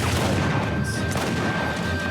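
Rocket launcher explosions in Uncharted 4, a dense burst of booming blasts and crashing debris packed into two seconds, loud and close, with no speech.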